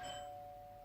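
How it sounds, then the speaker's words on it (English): A single electronic doorbell chime rings out clearly, its tone lingering and slowly fading against quiet room hum. "Oh, that's my doorbell."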